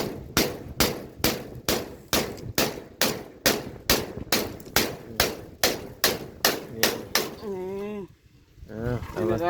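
A hammer drives nails into boards of a chicken coop, about sixteen sharp evenly spaced blows close by, then a person talks briefly at the end.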